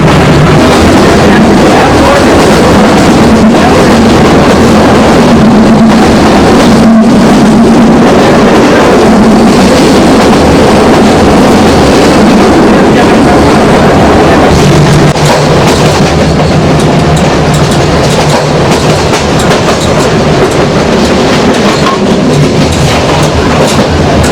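A train approaches Anand station with a loud, continuous rumble and rhythmic clickety-clack of wheels on rails, heard close from on board and filling the whole stretch.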